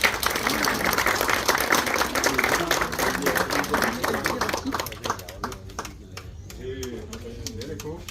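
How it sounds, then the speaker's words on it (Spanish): Audience applause at a community event, many hands clapping steadily for several seconds, then fading into scattered claps as a voice begins speaking. "Un aplauso para ellos también, por favor"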